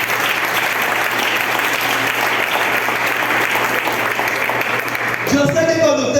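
A church congregation applauds the Lord during a sermon, sustained, loud clapping from a crowd with a steady low hum beneath, until music and voices break in near the end.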